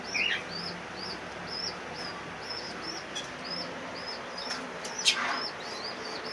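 Pet parrots and pigeons chirp in short, repeated high calls at a steady rhythm, with a couple of sharper squawks and faint wing flutters, moderately distant and without talk.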